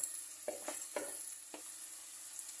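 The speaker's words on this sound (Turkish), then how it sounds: "Şimdi pirincini ilave ediyorum." Rice is tipped into a pot of vegetables for pilaf, several soft close scrapes and rustles over a faint steady sizzle, quiet and without talking.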